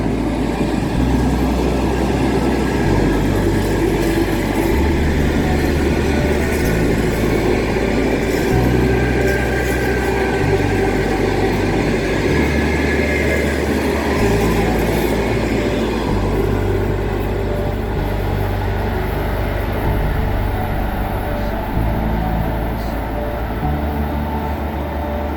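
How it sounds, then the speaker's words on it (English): A train rumbles past in Moscow as a steady, loud, continuous roar of wheels and engine, with low rhythmic thumps from the passing cars and the noise easing slightly toward the end. "In Moscow you can see trains like this. Listen to how beautifully it sounds."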